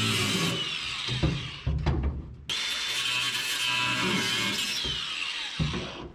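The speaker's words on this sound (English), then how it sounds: "Took the body saw, reached up in there, cut out any of the rusty stuff we could get." A body saw cuts out rusty metal on a 1976 GMC, giving loud rasping bursts that stop briefly and then run on in a long steady buzz, with no talking.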